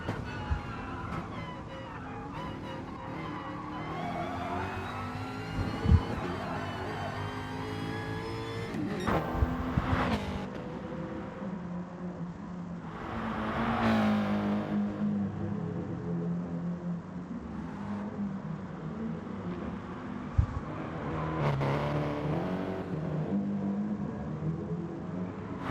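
Onboard a touring car in an MRC GTTCC Elite race, the engine drones and climbs through gears with rising pitch sweeps, lifting and dropping for corners, steady and close with a few sharp knocks.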